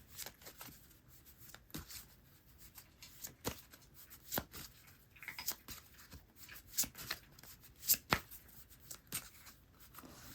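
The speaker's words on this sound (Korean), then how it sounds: "카드 정리하고 새로 다시 뽑읍시다" Oversized tarot cards being shuffled and tidied by hand, with soft scattered riffles, slides and taps spread across several seconds, close by and quiet.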